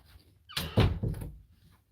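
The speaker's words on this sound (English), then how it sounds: "Closing this door." A door in a house is pushed shut with a short rustle and then a soft, dull thunk and latch knock, heard close and quiet with no speech.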